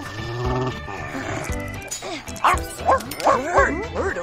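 A dog in The Sims video game barks several times in quick, bright yelps near the end, layered over steady in-game music.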